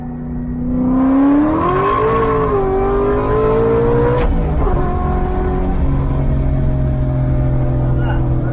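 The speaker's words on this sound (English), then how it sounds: "Sounded like a backfire, didn't it?" Supercharged 2003 Ford Cobra engine climbing in revs toward about 7700 RPM, loud and close with a rising whine, then a sharp crack like a backfire as the blower belt snaps, followed by lower steady running; voices talk over it.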